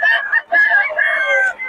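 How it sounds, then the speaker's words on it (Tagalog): A rooster crows loudly and close at a Filipino game farm, one long strained call broken by brief gaps, with other chickens' sounds faint around it. "Ito mga manok ni Boss Mac, oh."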